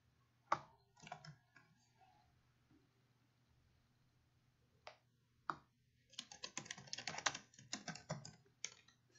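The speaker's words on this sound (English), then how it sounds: "Sorry for the typing." Bursts of keyboard typing, a few isolated keystrokes early on, then a rapid, steady run of clicking keys, close and fairly quiet over a faint hum.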